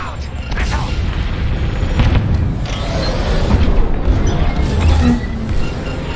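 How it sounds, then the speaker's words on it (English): In the Star Wars Squadrons video game, a missile explosion sounds as a loud, rumbling boom that swells and lingers over continuous space-combat noise, with voices speaking over it. "I'm being chased. Look out! Missile!"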